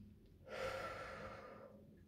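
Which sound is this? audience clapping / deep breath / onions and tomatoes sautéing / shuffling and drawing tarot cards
deep breath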